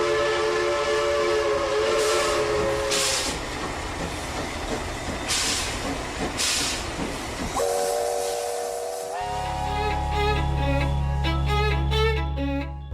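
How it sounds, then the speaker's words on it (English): A steam locomotive on the narrow-gauge Darjeeling Himalayan Railway, a 2-foot gauge line, sounds loudly with hissing steam, rolling rail noise and bursts of whistle, ending in a sustained, tonal steam whistle blast close by. "Now the good part is that this still runs on a steam engine"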